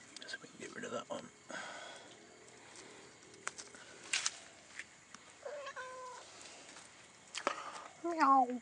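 A cat meows a few times in a wet garden, with short rising and falling cries near the middle and end, among soft rustling and quiet voices nearby.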